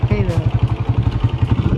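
A motorcycle ridden by someone slips through deep mud and standing water on a village track near Sultan Khel, Mianwali. The engine gives a close, rapid, steady chugging pulse, with faint voices at times.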